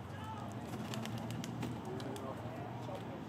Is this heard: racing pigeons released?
yes